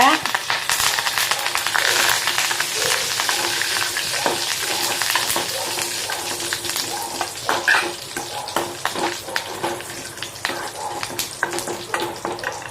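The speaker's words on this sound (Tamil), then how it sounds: "எண்ணெய் லைட்டாக சூடாயிருச்சு இப்போ வந்து கடுகு ஜீரகம் போட்டுக்கோங்க கூடவே வந்து கருவேப்பிலையும் போட்டுக்கோங்க" Mustard seeds, cumin and curry leaves fry in hot oil for okra sambar, producing a loud, close, continuous sizzle with scattered crackles and stirring noises.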